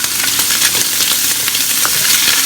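Onions frying in a pan with olives, a loud, dense, continuous sizzle close by with faint stirring scrapes throughout.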